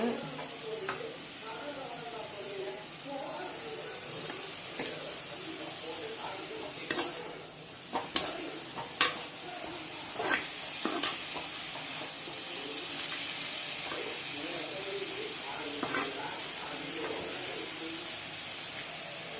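Drumstick leaves (murungai keerai) sauté in a pan for a Tamil poriyal, giving a soft continuous sizzle with scattered spatula scrapes and stirring clicks, steady and close throughout.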